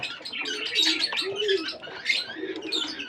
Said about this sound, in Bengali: এটা হলো দেশি পায়রা